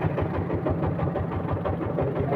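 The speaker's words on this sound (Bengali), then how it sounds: "নৌকাতে করে যাচ্ছি আমরা, অনেকে আছে নৌকাতে।" A boat engine runs steadily on a river crossing toward Sada Pathor, Bholaganj in Sylhet, giving a continuous low, chugging drone with a regular pulse throughout and no talk over it.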